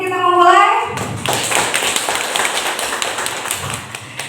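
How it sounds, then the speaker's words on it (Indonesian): Following a brief spoken voice, an audience of teachers and parents in a classroom breaks into loud, lively clapping that carries on steadily, with a few thumps mixed in. "Tepuk tangan dulu dong sebelum kita memulai."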